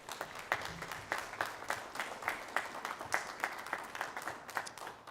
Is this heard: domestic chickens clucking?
no